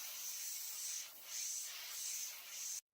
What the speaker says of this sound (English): get an airbrush or a rattle can, and then what you're going to want to do, you're going to want to spray.